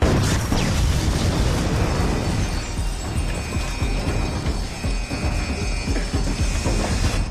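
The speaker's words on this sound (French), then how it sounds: "paré à faire sauter le générateur. Équipe d'assaut en position. À mon commandement. Feu, feu, feu." Massive explosion as a generator is blown up during an assault in a French TV drama, a loud, dense roar of blast and crashing debris that fills the whole stretch without letting up.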